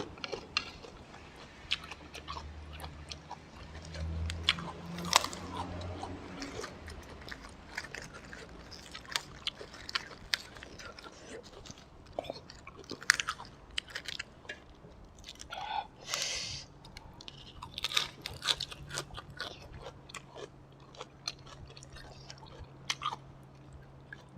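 Crunchy fresh vegetables bitten and chewed alongside a spicy Thai chicken feet salad with fermented fish sauce, giving close, moist crunching and smacking bites in irregular bursts with occasional soft murmurs.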